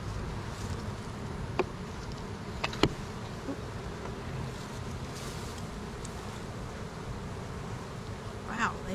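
Honey bees buzz steadily around an open hive with filled cut comb, a dense continuous insect drone with a few sharper clicks and passes, heard close and alone.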